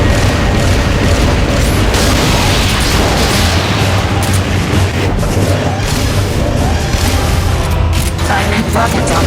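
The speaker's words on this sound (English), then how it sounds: "Firing rocket launcher." Rocket launcher fire in Metal Gear Solid: Peace Walker, a dense, loud, continuous roar of booms and rumbling blasts with mechanical clatter that fills the whole stretch without pause.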